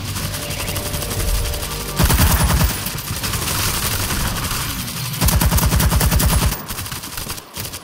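A smart gun fires in World War Z, with loud, dense bursts of rapid automatic gunfire coming in long stretches separated by brief lulls, close and dominant.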